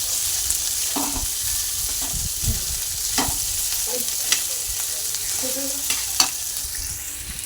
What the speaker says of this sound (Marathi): तेलामध्ये फ्राय करून घेतले.